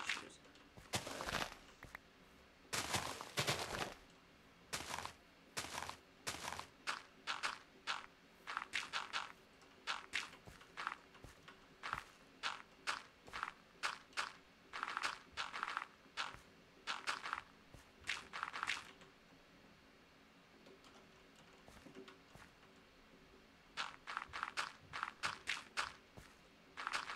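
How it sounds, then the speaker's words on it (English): Muffled footsteps of people walking around inside a house, heard from another room as faint, irregular clusters of thuds and knocks, pausing briefly before resuming. "I can hear people walking around"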